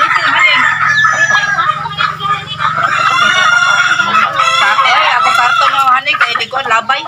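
Pet chickens cluck and crow close by, with a busy mix of bird calls and human voices running throughout.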